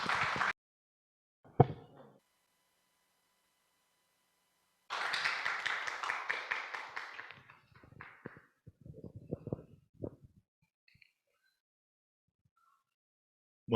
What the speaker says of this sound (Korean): 박수로 한번 환영해 주시면 좋겠습니다.